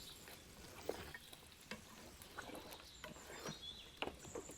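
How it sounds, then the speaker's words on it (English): Mutton coated in cumin powder and black cumin roasting and being stirred in a pan, a faint steady sizzle with soft scraping stirs recurring every second or so, no talking. "After 3 to 4 minutes of roasting"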